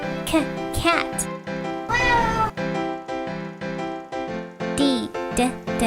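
A cat meows repeatedly and close by, giving a string of short and drawn-out rising and falling cries with brief gaps between them.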